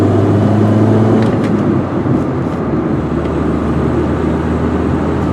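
A 1996 Saturn SL small car is heard from inside while driving, with a steady low engine and road drone that stays fairly even and loud throughout, and no one talking.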